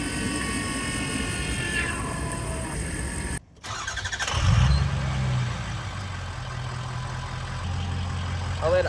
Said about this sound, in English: I'll let it idle a little bit and then go take it for a test drive